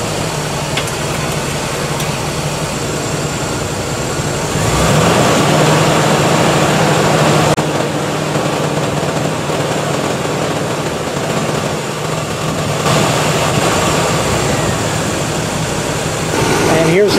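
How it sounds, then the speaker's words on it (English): A car engine runs steadily at about 2000 RPM, a continuous mechanical hum with broadband noise, fairly close and loud throughout. "run the engine at 2000 RPM for about 15 seconds"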